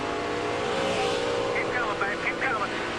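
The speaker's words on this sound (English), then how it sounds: "You heard Ted Musgrave get out of the throttle" A NASCAR race truck engine roars continuously at high revs, its pitch sliding down as the driver lifts off the throttle, with crowd or commentary noise mixed underneath.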